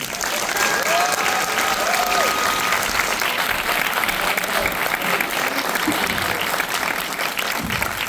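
An audience at a film Q&A at Beyond Fest applauds continuously to welcome director Scott Derrickson, a dense, loud wash of clapping with a few whoops and cheers mixed in.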